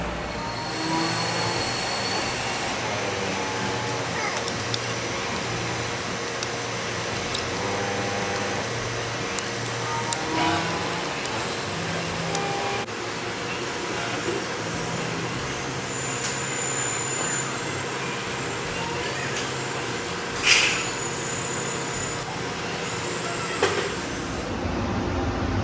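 Steel being machined on a lathe with a WNMG 432 carbide insert pushed hard enough to glow red-hot, a steady loud grinding, whirring cutting noise that runs the whole time with a few brief sharp squeals near the end and no talking.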